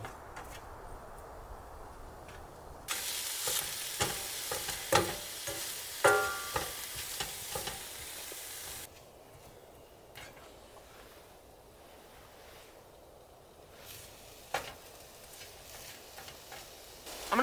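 Food sizzles in a frying pan while spaghetti is cooked inside a car, a bright hissing burst with clinks of stirring, then a quieter simmer with occasional taps.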